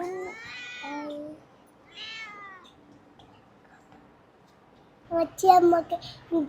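A cat gives two clear meows close by, followed after a pause by a burst of soft talking and higher-pitched cries.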